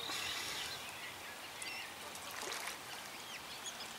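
Ducks on a fishing lake call in scattered short quacks and chatter, fairly distant and faint over a steady outdoor wash of noise.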